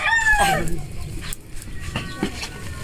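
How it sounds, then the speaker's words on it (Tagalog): A rooster gives a short crow near the start, then fades into general outdoor background noise with no voices. "dito din sa labas, kita mo. Meron kaming isang manok."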